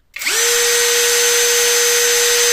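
An MLHY 20V cordless drill spins up and runs at its lowest speed setting, a steady close motor whine holding one even pitch after a quick ramp-up, with no talking.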